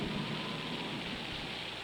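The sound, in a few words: rain and thunder during a storm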